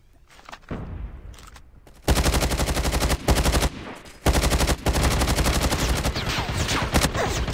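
Rapid automatic gunfire from the mobile shooter game Call of Duty Mobile, starting after a quiet opening and then running as loud, dense bursts with brief gaps in between.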